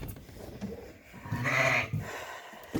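A ewe with a very small lamb on a sheep farm gives a bleat that swells in the middle of the clip over low barn background noise. No one speaks.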